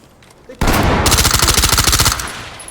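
An automatic weapon fires in the tactical shooter Ready or Not, one loud, sustained rapid-fire burst lasting about a second and a half after a brief quiet lead-in.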